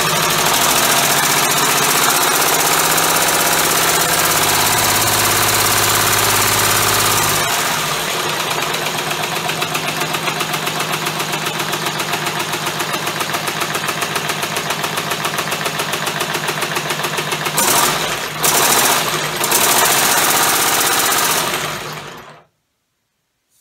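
A homemade air motor runs with a fast, steady mechanical chatter and hiss of compressed air, loud and close, its tone shifting partway through and sputtering briefly before cutting off abruptly at the end.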